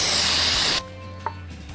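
Silicone spray hisses loudly from a can onto machine splines in one continuous burst of under a second, then cuts off abruptly into quiet shop ambience.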